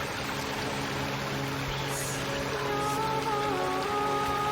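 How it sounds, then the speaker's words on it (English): A waterfall in the video game Senua's Saga: Hellblade II gives a constant dense rushing hiss, like heavy rain, steady and fairly loud throughout, with faint tonal music beneath and no speech. "Oh, waterfall back there."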